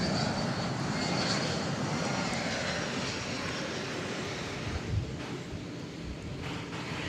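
A four-engine jet taking off at Dallas/Fort Worth airport at night, heard from a distance as a steady broad engine roar with some wind noise, moderately loud and unchanging for the whole stretch.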